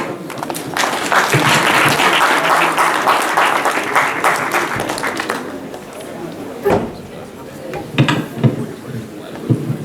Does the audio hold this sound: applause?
yes